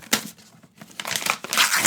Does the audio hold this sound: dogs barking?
no